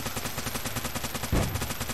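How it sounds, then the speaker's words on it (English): A turret machine gun firing in the video game Game of Death, a steady rapid stream of shots at an even rhythm with one heavier thump near the end, moderately loud. "I don't even know if this machine gun works"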